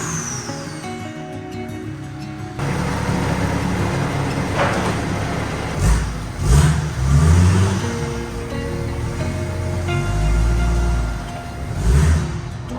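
A 1969 Ford Mustang with a turbo diesel engine and manual gearbox runs near a workshop, a loud rough idle that rises into several revs and lurches, with a clatter at the start and bursts of throttle later.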